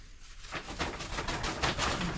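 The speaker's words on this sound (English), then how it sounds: "There's a bird in the corner there." A bird, likely a pigeon or dove, coos in the corner of an old storage shed in the Victorian High Country, giving a few close, low repeated calls over a breezy background.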